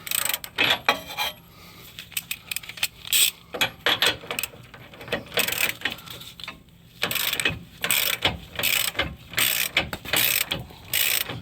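A ratchet wrench removes a nut from the suspension of a Dodge Ram 1500 during control arm bushing replacement: dense, close, rapid clicking ratchet strokes continue in uneven bursts throughout.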